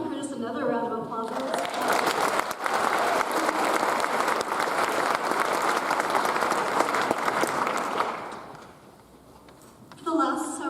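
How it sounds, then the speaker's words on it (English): Applause at a university psychology and neuroscience recognition ceremony swells into a loud, sustained roar of clapping from a large crowd, then fades out; a voice speaks at the start and again at the end. "Let's give Dr. Curtis another round of applause."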